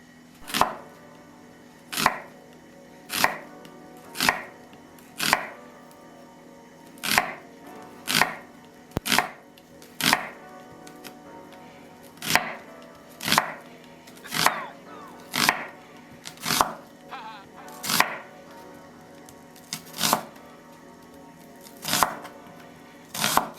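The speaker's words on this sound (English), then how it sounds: "take half of a red onion, slice that down really thin" Half a red onion is sliced thin with a knife on a board: a steady run of sharp, evenly spaced knocks, roughly one per second, close and crisp.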